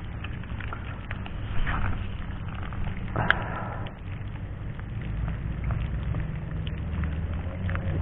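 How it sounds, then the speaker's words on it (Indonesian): Heavy rain falls at a reservoir during a fishing trip, a steady dense patter that continues for the whole stretch. One sharp tap stands out briefly, and no talking is heard. "Hujannya kok makin deras ini ya?"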